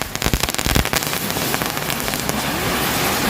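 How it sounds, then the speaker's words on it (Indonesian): A Comet brand spinning firecracker (mercon gangsing) set off outdoors for an Indonesian Independence Day celebration gives a quick burst of sharp crackling pops, then settles into a loud, steady fizzing whoosh. "ini yang selanjutnya kita nyalain mercon gangsing dari Comet"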